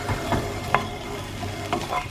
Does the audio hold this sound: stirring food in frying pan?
yes